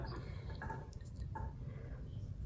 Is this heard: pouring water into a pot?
yes